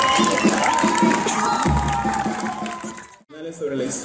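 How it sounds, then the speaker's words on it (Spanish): A crowd applauding and cheering at a scout parade in Lima, a dense wash of clapping and shouts with voices mixed in, briefly cutting out before resuming. "Fuertes palmas, por favor,"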